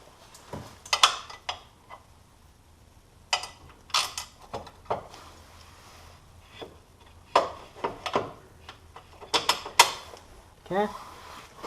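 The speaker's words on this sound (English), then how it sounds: "go ahead and drop a couple bolts in to hold its place." Metal bolts clink and clatter as they are dropped into a winch mount on a Polaris RZR, a series of sharp, close knocks and rattles in bursts separated by quiet gaps.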